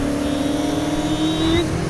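Ford Mustang Foxbody engine in NFS Heat holding a steady low-rev drone with a faint rising whine, close and constant throughout.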